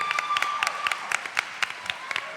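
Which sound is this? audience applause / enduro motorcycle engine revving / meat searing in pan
audience applause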